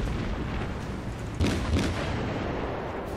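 Two heavy booms close together from a Hashidate-class cruiser's gun volley in World of Warships, a naval battle game, rising out of steady low rumbling background noise.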